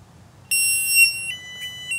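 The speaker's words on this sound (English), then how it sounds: "If I turn this alarm off, it's gonna make a lot of noise." A Nash Siren R3+ bite alarm in anti-theft mode sounds close and loud. A piercing high electronic tone starts abruptly and holds steady with slight pitch shifts.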